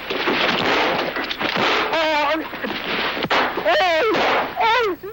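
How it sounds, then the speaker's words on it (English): Gunfire picked up on a police detective's body mic during a drug bust in an apartment house: several sharp, chaotic bangs, with frantic shouting voices mixed in over a noisy, distorted recording. "The dealer panicked and opened fire."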